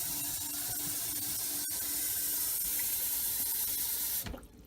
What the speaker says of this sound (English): Fill your pot until they're covered with water.